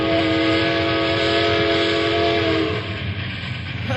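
A train rumbles steadily along with a sustained horn sounding over it, the tone fading out partway as the rolling noise continues.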